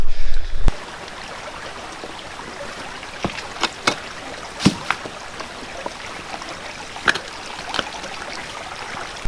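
A river stream flows steadily where lead pellets are being pulled from the water during gold detecting, with a continuous broadband rush broken by a few sharp splashes or knocks.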